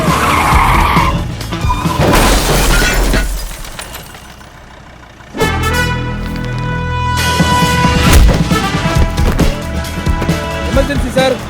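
A car brakes hard and skids in a long tyre screech, followed by engine noise and another loud skid, with shouted voices and music mixed in.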